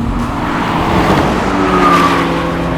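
A BMW X3 M50, Audi SQ5 and AMG GLC 43 launch together at the start of a drag race. A loud, dense engine roar builds steadily with a rising harmonic whine over the short stretch.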